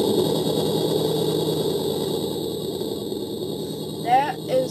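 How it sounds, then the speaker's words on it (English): A toy RC car's electronic sound system plays a simulated engine idle at low volume, a steady humming drone that continues without cutting out, with a couple of short higher blips near the end. "this is idling, and it doesn't shut off after like 5 seconds"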